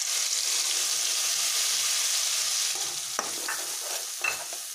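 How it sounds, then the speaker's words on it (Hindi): Deggi chili and ground masala sizzling in hot oil for a baingan bharta gravy, a loud steady hiss that eases off, then a few spoon scrapes and stirring knocks, no speech. "अब तेल अच्छे से गर्म हो चुका है, मैं डालूंगी इसमें डेगी मिर्च, जिससे ग्रेवी का कलर भी अच्छा आ जाए।"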